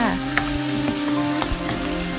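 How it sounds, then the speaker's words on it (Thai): Shrimp stir-fried in pad thai sauce in a hot wok, giving a loud, continuous sizzle with the scrape and clatter of stirring running throughout. "ใส่ซอสผัดลงไปนะคะ แล้วก็ผัดให้หอมนะคะหลังจากนั้นเราก็ใส่กุ้งลงไปค่ะ"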